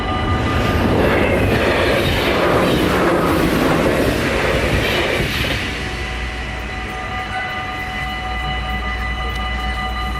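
Burimari Express passenger train running on rails: a loud, close rumbling roar of wheels and carriages fills the first half, then eases into a steadier, lower hum with faint tonal whine.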